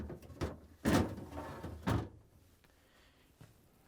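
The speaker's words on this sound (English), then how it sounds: "I'm going to install the crisper pan." Plastic crisper pan of a Whirlpool, KitchenAid or Maytag refrigerator sliding into its slot, giving a few close knocks and rubbing scrapes, the loudest two thumps about a second apart, then quieter settling.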